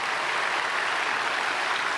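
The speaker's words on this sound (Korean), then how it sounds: "우리 박수 한번 하겠습니다." A church congregation at a Sunday service at Myungsung Church claps together in a steady, dense and even wash of applause that stays constant throughout.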